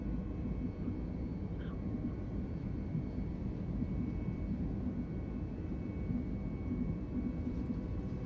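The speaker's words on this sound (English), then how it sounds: "I'm going to accelerate my engines now to toga mode" A320neo engines spool up to takeoff thrust in Microsoft Flight Simulator, a steady, broad, low jet roar that holds constant and fairly faint for the whole stretch.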